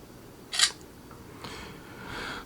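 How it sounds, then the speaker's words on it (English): A ZTE Axon 7 phone camera fires its shutter in a dim room, one quick, crisp click, followed by faint softer handling noises. "It's still a very fast shutter"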